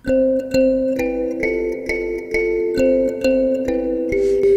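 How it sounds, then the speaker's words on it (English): A mbira dzavadzimu is played alone, its plucked metal tines ringing in a steady, repeating pattern of bright, buzzy notes. "this is how you play the next part of our song on the Mbira Dzavadzimu"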